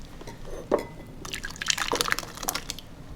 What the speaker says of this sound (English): Just pouring all the lemon curd in there.